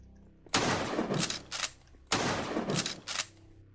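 Two matching bursts of gunfire in the Roblox game Hunted, each a sharp loud shot followed by a couple of quieter trailing cracks, separated by a short pause.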